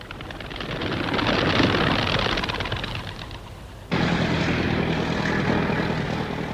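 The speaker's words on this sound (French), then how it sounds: "Décollage effectué." Cartoon propeller airplane taking off, a broad, steady engine drone that holds loud, dips slightly, then jumps abruptly to a fuller, brighter roar near the end.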